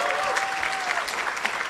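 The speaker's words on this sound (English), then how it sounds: "Give yourselves another wonderful round of applause for being here." Enthusiastic applause from a crowd at a Kwanzaa celebration, dense steady clapping throughout with a few voices and a brief whistle-like tone over it.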